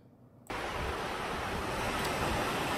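A valley stream beside a countryside property rushes loudly and steadily, its dense roar of water kicking in abruptly after a quiet moment and continuing without pause.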